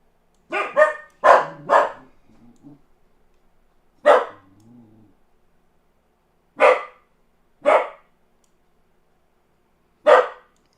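A dog barks in short sharp bursts, a quick cluster of three then single barks spaced a few seconds apart, close and loud with quiet gaps between.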